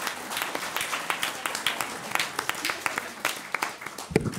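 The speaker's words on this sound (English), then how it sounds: "Let's give a great big round of applause to all of them." Scattered applause from a Knowledge Bowl audience, a few claps close by over a sparse, light crowd patter that holds steady for several seconds.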